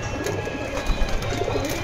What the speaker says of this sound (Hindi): बाकी आप देख लीजिए टोटली पंजाबी कबूतर हैं ये।